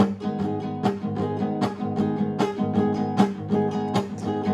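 Strummed guitar chords beat out a steady, lively rhythm, each stroke crisp and close, repeating evenly with no voices.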